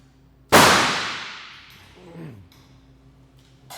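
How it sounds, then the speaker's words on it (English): An electrical line fuse blows when a squirrel's tail touches an energized conductor, a single sharp, loud crack that rings out and decays over about a second, followed by faint rustling and a low voice. "Now what you just heard there was a fuse blowing"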